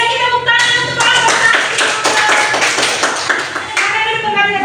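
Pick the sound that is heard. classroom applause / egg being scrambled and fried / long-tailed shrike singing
classroom applause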